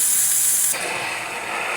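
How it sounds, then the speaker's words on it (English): Steam jetting from a Saeco Celsius espresso machine after a tune-up, a loud, steady close hiss that shifts in tone partway through and continues without a break. "Nice steam coming out through the one."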